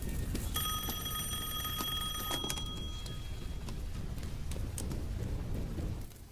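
A phone rings in a tense movie scene: a bright, electronic ringing tone sounds for about two seconds over a low rumbling background, then stops while the ambient noise continues.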